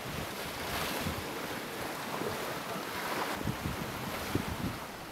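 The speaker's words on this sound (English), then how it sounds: "the wind starts to die down" Steady wind and breaking waves at sea surround a small Shark 24 sailboat in turbulent weather, a continuous broadband rush with gusts of wind noise on the microphone and occasional louder splashes, with no voices.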